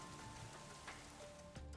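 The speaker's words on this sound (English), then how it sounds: "Only the sound of rain remains in the back alley." Quiet rain falling in a dark back alley in a video game scene, a soft steady patter with faint tonal hum and a couple of small splashes, no voices.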